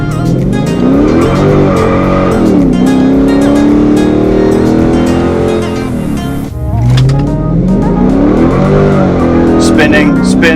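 Tires on a car fitted with Nitto NT555 G2 tires spin and squeal under a loud, revving engine, with the roar rising and falling through a brief dip. Voices talk over it.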